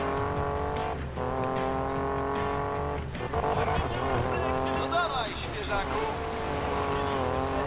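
Race cars roar through a Need for Speed Payback race, steady engine drone with rising and falling pitch and brief tire squeal, loud throughout with a voice talking over it.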